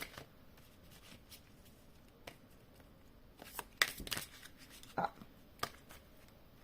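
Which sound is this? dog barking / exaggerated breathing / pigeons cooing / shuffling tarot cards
shuffling tarot cards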